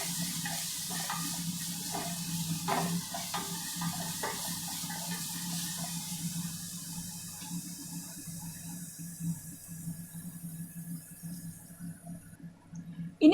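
Onion paste and sliced green chillies roasting in a pan, a soft, steady sizzle and hiss that trails off gradually toward the end, with no talking over it.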